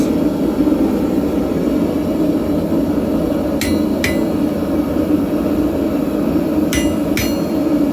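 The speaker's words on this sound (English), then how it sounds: "Take your mini crowbar, give it the splits." A mini crowbar is struck with a hammer while splitting metal to make caltrops: a few sharp metallic blows, two pairs of close, loud strikes over a constant loud background roar.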